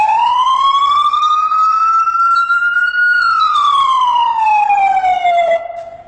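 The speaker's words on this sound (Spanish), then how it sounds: "Este tono que vas a escuchar a continuación es cuando nosotros estamos en ruta," A loud ambulance siren en route tone, used on long avenues, sweeps slowly up and then back down in a long wailing tone, close by, fading slightly at the end.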